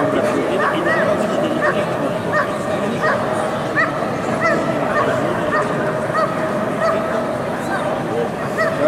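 At a German shepherd dog show, dogs bark repeatedly in sharp rhythmic bursts over steady crowd chatter, with some yips and whimpers mixed in and people talking nearby.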